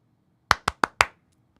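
Four crisp hand claps close by, in a slightly uneven rhythm with short gaps between them, heard alone against a quiet background.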